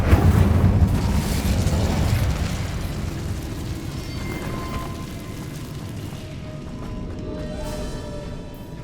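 A fiery Incendio spell blast erupts in Hogwarts Legacy, a loud boom-like rush that gradually fades into a lingering rumble with faint magical tones.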